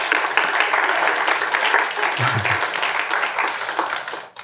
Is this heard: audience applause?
yes